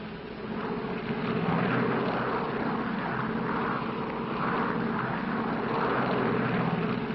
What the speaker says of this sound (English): Los Angeles Tower, this flight 649, ready for taxi instructions.